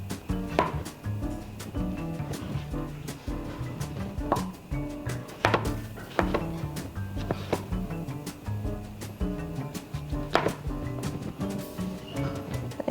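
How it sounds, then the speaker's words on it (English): Knife chopping tomato and cucumber for a chicken salad on a cutting board, with irregular, close taps and thuds in quick bursts and pauses over a faint background hum. "You can cut in half again."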